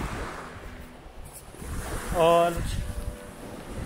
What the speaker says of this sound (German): Haben hier so ein Windschild auch noch aufgebaut, weil es echt windet.